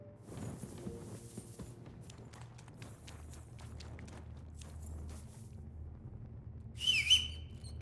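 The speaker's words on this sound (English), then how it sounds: "I fucking end up whistling. So your horse can't get here." A character whistles for a horse in the medieval game Kingdom Come Deliverance 2, a short bright whistle near the end after quiet footsteps and faint movement.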